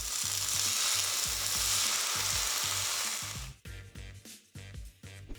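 Chicken pieces fry in a pan with a loud, bright sizzle and a steady crackle of hot oil, then the sound drops to softer pops and spatters as the frying settles.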